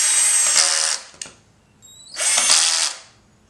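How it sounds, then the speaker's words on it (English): Two loud bursts of a power drill whirring as it drives a screw into a wall, each about a second long, separated by a short pause with a click and a brief squeak. "Now I'm gonna drill my screw in."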